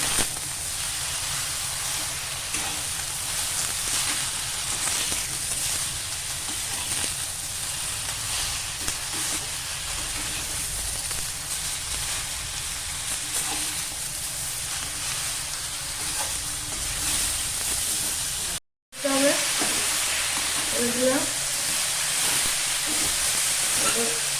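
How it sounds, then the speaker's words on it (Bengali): Broccoli fries with turmeric in a pan, giving a continuous loud sizzling hiss throughout. It cuts out for a moment, then resumes with faint clinks of stirring. "এরপর নাড়াচাড়া করতে হচ্ছে"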